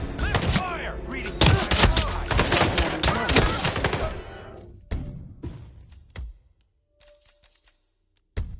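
A loud fusillade of gunfire rips out in dense, overlapping bursts for about four seconds, then a few scattered shots and thumps trail off into near silence, with one last sharp report at the end.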